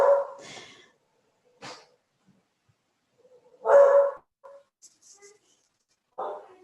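A household dog barks in short, separate bursts at close range: one at the start, a sharp yip, a louder bark near the middle, and another at the end, with quiet gaps between.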